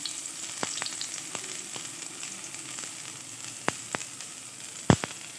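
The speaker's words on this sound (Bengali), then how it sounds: "তো তেলের মধ্যে পেঁয়াজ কুচিটা দিয়ে দিলাম।" Chopped onion sizzling in hot oil in a wok, a steady quiet hiss with scattered sharp pops and crackles, one louder spit near the end, heard alone without talk.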